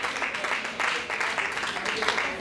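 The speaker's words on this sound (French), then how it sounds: "Applaudissez s'il vous plaît." Audience applause at an award ceremony in a marquee, a dense steady patter of many hands clapping at moderate volume throughout, with no voices over it.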